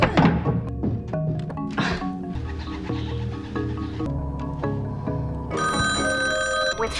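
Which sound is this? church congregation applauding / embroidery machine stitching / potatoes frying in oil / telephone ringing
telephone ringing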